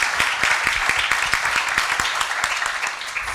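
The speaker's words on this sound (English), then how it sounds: "A round of applause for them for being a co-sponsor and giving us this wonderful space tonight" Audience applause fills a town hall meeting held in a public library space, a steady dense wash of many hands clapping at close range throughout.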